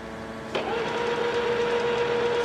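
Zbrojovka cylindrical grinding machine of 1500 mm length spins up to its maximum speed, a steady mechanical hum with a rising whine that settles into a constant tone after a brief click.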